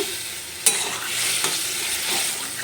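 Desi chicken curry sautéing in a pan, with a continuous close sizzle broken by a few sharp spatula strokes and scrapes, no voices.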